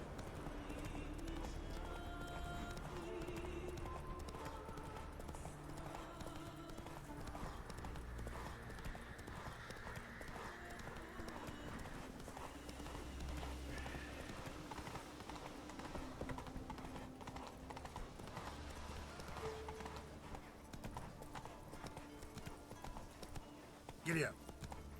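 Horse hooves gallop in The Witcher 3 video game, a steady clip-clop running beneath game music and ambience while a person talks over it.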